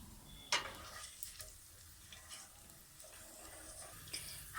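Tadka of cumin, onion, garlic and green chilies frying in hot oil, a soft steady sizzle with a sharp clatter near the start and light stirring knocks throughout.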